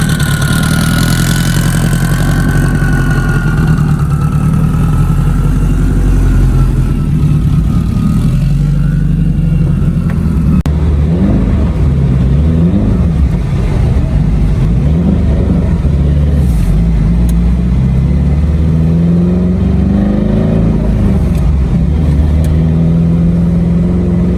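A Subaru STI engine runs loudly and continuously from inside the car, revving and shifting pitch as it drives along.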